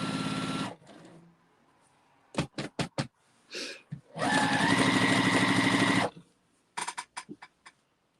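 Sewing machine stitching together strips of Christmas fabric, running in a few sustained bursts separated by short stop-start stitches and quiet pauses, close and fairly loud.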